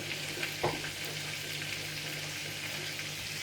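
Breaded squid rings fry in hot oil, giving a steady close sizzle with one brief stir or clatter and no talking.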